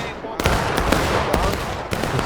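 Rifle and artillery gunfire in a War of Rights multiplayer battle at Crossroads, a dense stream of overlapping shots and booms, some sharp and near, others distant, with voices mixed in.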